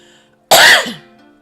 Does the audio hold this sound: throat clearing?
yes